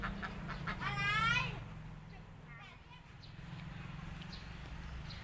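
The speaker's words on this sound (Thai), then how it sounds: "ดูเป็ด ดูเป็ดนะคะทุกคน" White Muscovy ducks quack loudly up close in a rapid burst, then softer quacking continues while someone talks over the birds.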